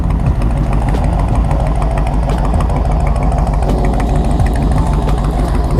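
A motorcycle engine idles just after starting, with the front cylinder noted as running rich. It gives a loud, close, steady throbbing rumble throughout.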